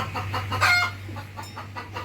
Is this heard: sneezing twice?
no